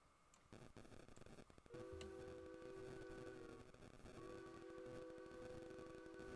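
A steam locomotive whistle on the sh2-8-2 in the video game Derail Valley blows two sustained tonal blasts over a rumbling, clattering train, fairly faint.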